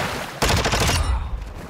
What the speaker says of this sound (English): Oh my God, I put so many bullets into him.